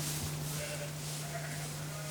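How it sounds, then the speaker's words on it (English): A pregnant ewe bleats inside an airy, well-lit lambing shed, a faint bleat heard under a steady low electrical hum and a wash of background shed noise. "Here's one of the ewes, the female sheep about to lamb."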